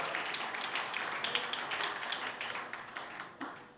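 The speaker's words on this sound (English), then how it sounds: "Give yourselves a giant round of applause just for being here." A morning conference audience claps before a panel discussion, a broad, continuous round of applause with individual sharp claps standing out, holding steady and then thinning slightly toward the end.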